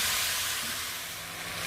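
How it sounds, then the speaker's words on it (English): Chopped onions and vegetables softening in a pan for beef bourguignon, giving a steady broadband sizzle and hiss that runs evenly throughout at moderate level, with no voices. "a couple more of chopped onions. And we just saute them for a few"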